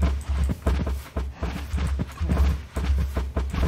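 Minecraft horse hooves clip-clop in quick, uneven bursts of hollow clatter, several strikes in each group, fairly close and moderately loud, with no talk over them.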